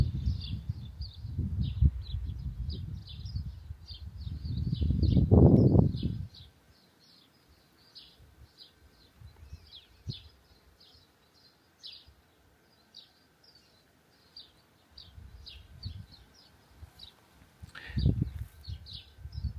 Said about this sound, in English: You certainly can hear in the background all the birds chirping.